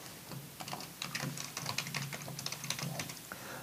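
Java code being typed on a computer keyboard in a steady run of quick, close clicks and key presses that continues throughout, over a low background hum, with nobody speaking.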